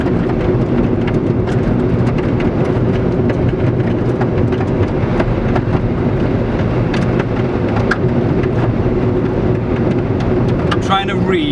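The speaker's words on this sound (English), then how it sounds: "so that noise you can hear are bits of desert being kicked up underneath the car" Desert grit and stones kicked up beneath a car speeding across a dry pan, a dense, continuous rain-like hiss and patter under steady road rumble throughout.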